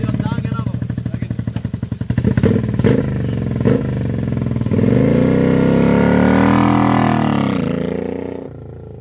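A Honda CRF250 motorcycle idles with a steady, close engine rumble, then revs up and settles again in a rising and falling drone before cutting away at the end.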